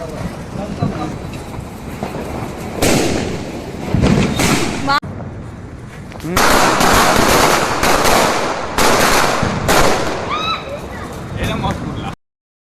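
Firecracker bombs go off in a string of loud, sharp bursts spread over several seconds, each crack ringing out close by while people shout and talk excitedly throughout.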